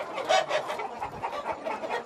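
Several bearded chickens cluck at a local breeding farm in Vietnam, a dense, overlapping flock chatter that stays fairly steady and close throughout.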